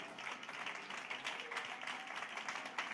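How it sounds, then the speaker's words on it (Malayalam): A church congregation claps together during a sermon, producing a dense, steady patter of many hands that stays even and moderately quiet throughout, with no clear break. "കൈയടിക്കുന്നെങ്കിൽ വൃത്തിയായിട്ട് കൈയടിച്ചൊന്ന് ദൈവത്തെ"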